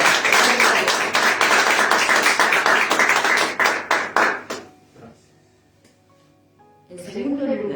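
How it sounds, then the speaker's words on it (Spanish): A church congregation claps loudly and steadily for several seconds. The clapping thins out and stops, and a preacher's voice takes over near the end. "Denle un fuerte aplauso al Señor."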